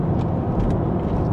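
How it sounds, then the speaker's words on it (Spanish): A car's engine roars steadily as the driver floors the accelerator through a curve and quickly shifts up into fourth gear, a dense, continuous drone with no voices. "tengo que rápidamente acelerar fuertemente hasta el fondo. Y rápido hago el cambio a la siguiente velocidad, en este caso cuarta"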